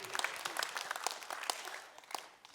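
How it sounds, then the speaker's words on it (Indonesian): Applause from a church congregation during an Indonesian-language service, a dense patter of many hands clapping at steady volume, with a voice faintly audible underneath. "berikan tepuk tangan"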